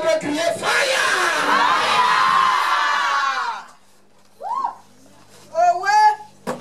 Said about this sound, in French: je vais t'entendre crier fire.